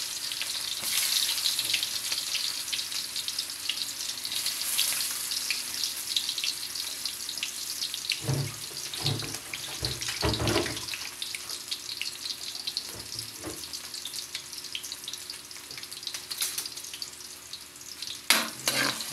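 Garlic and onion fry in a hot pan with a steady, bright sizzle, and a spoon scrapes and stirs through them in a few short bursts toward the middle. A brief clatter comes near the end. Nobody speaks.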